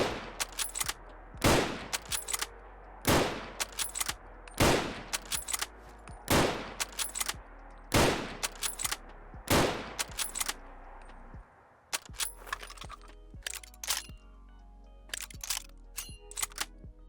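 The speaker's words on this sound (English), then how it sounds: "Let's start off with the stripper clip reload." Stripper clip reload on a WW2 rifle in Fallout 4: a loud, regular series of sharp mechanical clacks about once a second, then a pause and quieter metallic rattles and clicks.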